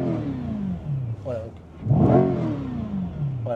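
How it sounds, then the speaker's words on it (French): A car engine revs and accelerates, heard from inside the cabin, a rising mid-pitched drone that swells in the middle of the clip while someone talks over it. "je vais te faire écouter le moteur quand je vais accélérer"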